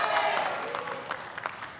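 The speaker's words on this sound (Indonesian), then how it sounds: "Boleh hadirin untuk memberikan tepuk tangan yang paling meriah untuk kedua pasangan calon presiden" Audience applause at the fifth 2019 Indonesian presidential debate, for the presidential and vice-presidential candidate pairs; steady clapping from a large hall that fades a little over the short stretch, with a voice faintly over it.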